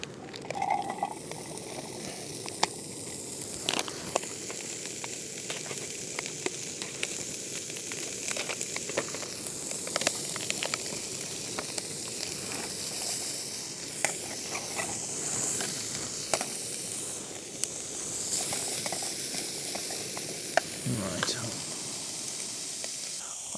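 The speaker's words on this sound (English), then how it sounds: "the chorizo cooking" Chorizo sizzles quietly in a pan at a wild campsite in Snowdonia, a soft, steady hiss scattered with small pops and clicks, with faint voices now and then.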